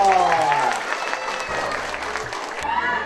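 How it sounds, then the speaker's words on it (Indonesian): Applause from a crowd of fishermen at a gathering in Patimban, steady and moderately loud for about three seconds, with voices talking over it throughout. "tepuk tangan dong"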